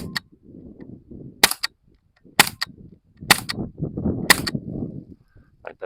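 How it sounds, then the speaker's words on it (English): An Umarex Canex CO2 air rifle fires wadcutter pellets, giving four sharp, snappy cracks spaced about a second apart, with quiet handling noises between shots. "we got the wad cutters here. I'm just kind of shooting sitting down offhand."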